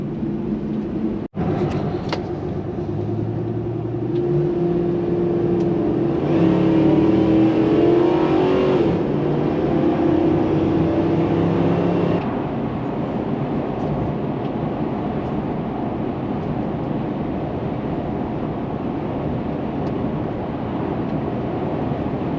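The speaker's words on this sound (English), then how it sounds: "Driving really good, nice and smooth, no noises. We're running on gas here." Dodge Ram pickup truck running on gas, its engine and road noise a steady, fairly loud drone that swells briefly as it picks up speed, then settles back to an even cruising hum.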